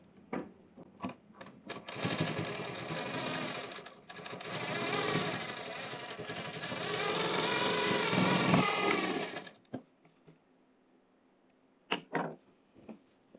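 Sewing machine stitching the hook strip of a blouse, running in three close, loud bursts of rapid mechanical whirring separated by short pauses, with clicks and handling knocks at the end.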